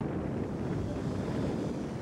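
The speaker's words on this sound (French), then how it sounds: "Un bruit incessant de ces vagues en furie dépose ou emporte des sédiments." Furious waves crash continuously along the West African coastline, a loud, steady roar of surf churning sediment, mixed with heavy wind buffeting close to the microphone and no break in the noise.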